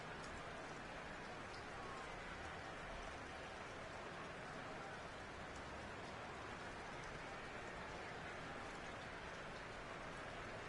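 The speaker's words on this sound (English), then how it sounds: "You add in a downpour like we're in right now" Heavy downpour in a Madden 22 football game broadcast, a steady dense hiss of rain running evenly throughout with no clear breaks.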